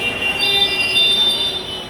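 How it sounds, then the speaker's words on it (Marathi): Train noise at a large station in Thane, with a steady rumble and high metallic squealing tones from wheels, continuous and moderately loud across the short stretch. "तिकडे स्टेशन आहे, तिकडे ट्रेन्स आहे."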